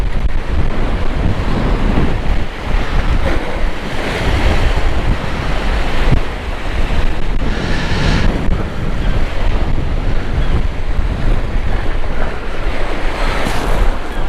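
Steady wind buffeting the microphone over waves breaking on a sea shore while fishing, a loud continuous roar with surging surf throughout and no voices.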